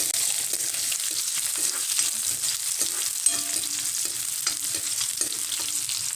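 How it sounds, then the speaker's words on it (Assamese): Onion and garlic fry in hot oil in a pan under a constant close sizzle, broken by repeated scraping stir strokes at an uneven rhythm, with no talking. "আৰু এইখিনি অকণমান মই ৰঙচুৱাকৈ ভাজি ল'ম।"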